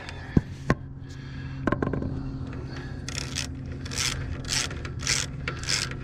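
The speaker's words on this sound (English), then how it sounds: "there's your adjusting bolt. You're just going to screw it in." A belt adjusting bolt is screwed in during an engine tune-up, with a couple of sharp metallic clicks followed by quiet scraping and bursts of ratcheting turns close by.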